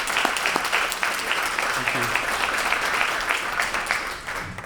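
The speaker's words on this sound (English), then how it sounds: "We can get a round of applause for all of them." Audience clapping at a Farmington Public Schools awards ceremony: dense, sustained applause fills the whole stretch at a steady level, with a brief spoken thank-you over it.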